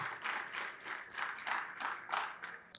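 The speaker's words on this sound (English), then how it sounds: "can we please give a good round of applause for our Deputy Minister of MICT, Modestus Mu" Audience applause at the opening ceremony of a Namibian election-reporting workshop, a steady wash of hall clapping surging in soft waves, moderately distant, with no talking over it.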